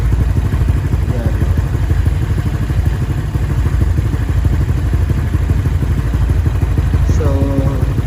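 A Honda Click 125i scooter engine fitted with an Exos X6 exhaust runs steadily and close by, a continuous low engine drone with some clatter, while a voice talks over it near the end.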